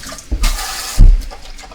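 Cans rinsed under kitchen tap water, two short loud splashing gushes close by, one near the start and one about a second later, with quieter trickling in between.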